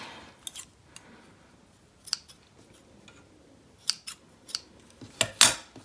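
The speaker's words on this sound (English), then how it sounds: "Just trim off those edges so they don't get in your way and repeat." Sharp scissors snip through fabric while edges are trimmed for a homemade scrunchie: scattered crisp cuts with quiet gaps, then a quick cluster of louder snips near the end.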